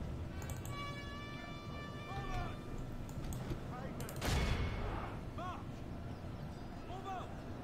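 Mortars firing during a Total War Warhammer battle, a broadband burst of explosive gunfire rising out of dense battlefield noise with a roaring thump around the middle, layered over game music, while someone talks throughout.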